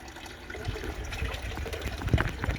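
Water drains off freshly boiled shrimps into a pot at a shed, a gushing, trickling pour with splashy bursts that grow louder toward the end.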